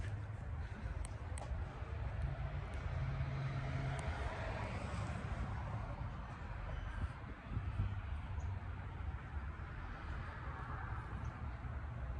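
A 1970 Ford F-250 4x4 pickup truck engine with coated headers rumbles steadily at idle, a low continuous drone with faint rattles, heard at moderate distance.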